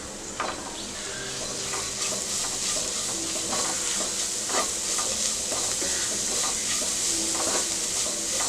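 Grated raw mango sautés with turmeric, chili powder and white sesame seeds in a pan, giving a constant bright sizzle broken by regular soft scraping stirs of a spoon, with no voices.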